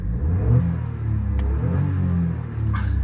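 A 2019 Citroen C1 1.0 VTi with its three-cylinder engine revs up close, a steady throaty rumble swelling and easing with a brief lift near the end, with no talking.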